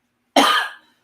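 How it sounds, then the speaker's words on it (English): A single sharp, loud cough from an adult with long-standing acid reflux, abrupt in onset and tailing off quickly, heard alone in a quiet room. "This is not a germ-related cough. That's from my acid reflux that I've had for years."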